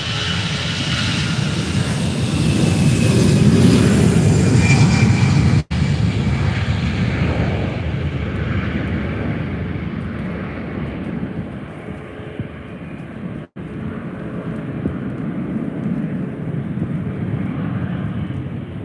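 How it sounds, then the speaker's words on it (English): An EasyJet Airbus A220 airliner passes at Faro Airport, its loud engine roar swelling to a peak and then slowly receding into a steady distant rumble, with no voices. "So here goes the EasyJet A220."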